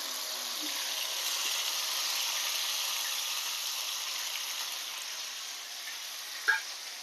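Ground paste poured into hot oil sizzles and hisses steadily as a constant bright frying wash, moderately loud, with a small clink near the end and no speech.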